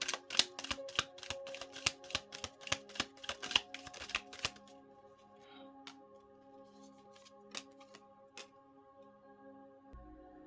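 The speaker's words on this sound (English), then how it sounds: "I'm going to pull a few crystal cards for those who's in the 6 of Swords' energy." Crystal cards are shuffled, a quick string of sharp, crisp riffling clicks for about four seconds, close and clear, followed by quiet with a faint sustained tone.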